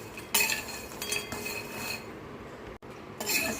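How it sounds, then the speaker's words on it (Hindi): Nuts and pistachios dry-roasting in a pan without ghee, stirred with a utensil that gives repeated close scraping and rattling strokes, with a brief quiet gap near the end. "इसके अंदर अब नट डालेंगे और जो ये पिस्ता है वो डालेंगे और इसको भी हम भून लेंगे"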